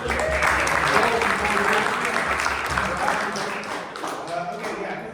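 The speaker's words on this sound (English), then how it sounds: "All right, everyone, have a warm applause for Bill here." Steady applause from a crowd, loud and sustained throughout, gradually thinning toward the end.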